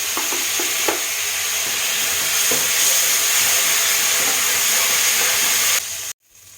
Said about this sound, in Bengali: আদা বাটা নিয়ে সামান্য একটু জল দিয়ে আমি মশলাটা একটু কষে নেব